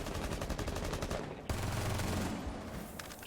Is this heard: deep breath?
no